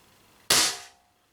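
A single sharp, loud shot from an Umarex TB68 pistol, a sudden crack with a short decaying tail before quiet returns.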